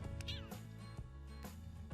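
A close cat meows a few times in short, whiny calls over a constant low hum, in the video game The Sims 2.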